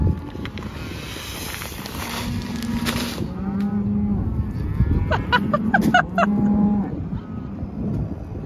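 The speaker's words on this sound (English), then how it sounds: "so if you can't hear because of the cows, I'm sorry" Cattle on a Wyoming ranch, during pickup ranching and calf tagging, bellow in two long, drawn-out moos, close and loud, over a windy outdoor background.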